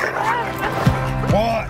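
A dog barks and whimpers in short yips over a continuous music-and-effects bed in a film trailer, with a couple of sharp hits under the cries.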